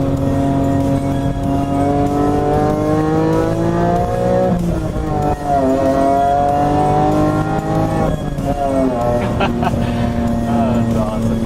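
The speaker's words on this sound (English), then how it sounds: "We'll just quickly run it through the gears here, just a little loop around." A 2002 BMW E46 M3 coupe with a six-speed manual pulls hard through the gears, the engine note climbing sharply, dropping at each shift and rising again, loud and close, with a voice speaking over it at times.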